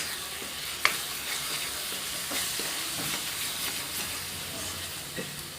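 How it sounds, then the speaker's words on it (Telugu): Turmeric is stirred into a tomato curry cooking in a pan, with a steady close sizzle and soft scraping stirs, plus a few light knocks of the spoon against the pan. "పసుపు వేసుకొని అట్లా కలుపుకుందాం."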